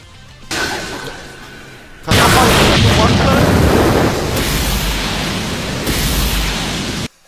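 A special-move explosion in a GTA San Andreas mod builds from a rising whoosh into a loud, sustained roaring blast that rumbles for several seconds before cutting off abruptly.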